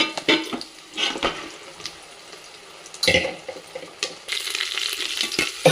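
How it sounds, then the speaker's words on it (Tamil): Oil sizzles and crackles in a pan as spices are tempered for dal, with intermittent stirring and scraping noises, fairly close and with no talking. "இப்போ தாளிக்க போகிறோம்."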